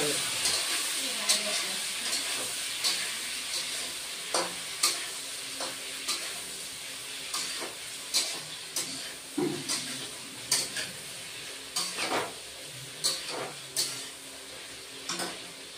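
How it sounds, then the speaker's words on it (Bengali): Potato and eggplant pieces frying in a pan give a steady sizzle, broken by repeated sharp clicks and scrapes of a utensil stirring them at a near-regular pace. "এখন আলু বেগুনটা একটু ভেজে নেব।"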